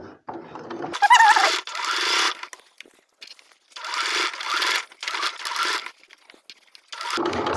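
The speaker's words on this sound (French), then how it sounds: "on commence notre couture par un aller-retour" A sewing machine stitches a small fabric pouch for storing sewing clips, running in several bursts of back-and-forth stitching separated by short pauses, close and fairly loud, with a brief voice at the start.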